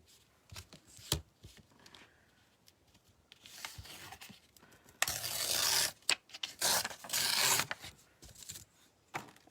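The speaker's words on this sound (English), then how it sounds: "I think I'm going to just tear a strip of this" Burgundy-red craft material is torn into a strip by hand, heard as a couple of close, loud ripping bursts after scattered soft rustles and handling taps.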